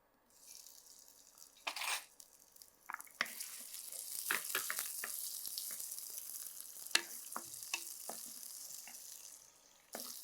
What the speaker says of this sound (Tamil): இந்த வெங்காயம் வந்து லைட்டாக கோல்டன் கலர் வர வரைக்கும் நம்ம வதக்கி எடுத்துக்கோங்க